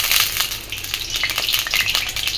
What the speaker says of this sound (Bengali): তেলটাকে দিয়ে এখন আলু ভাজা শুরু করব